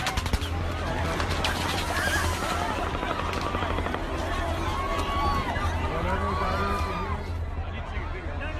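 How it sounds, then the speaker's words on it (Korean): Rapid bursts of machine gun fire crackle through an attack on a crowd in Las Vegas, with screaming people and shouting voices throughout and the firing continuing unbroken. "무시무시한 총소리, 뭐 사람들의 아우성 소리"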